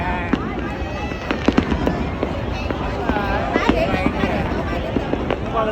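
New Year fireworks burst across the sky in an outdoor crowd, with many sharp pops and crackles scattered through a dense background of chatter and shouting from people nearby.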